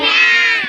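A voices a short, nasal cat meow in imitation, one brief, clear, close call.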